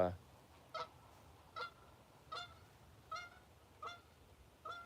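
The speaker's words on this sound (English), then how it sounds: "Oh, there go the geese." Geese honk in a steady series of about six calls, evenly spaced and moderately distant, over quiet background noise.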